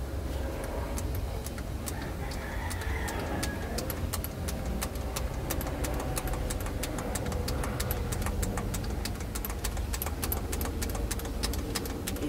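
A small engine runs steadily just after a fuel line repair and priming with the primer pump, its low rumble constant throughout with sharp rhythmic ticking clicks on top and faint bird calls in the background.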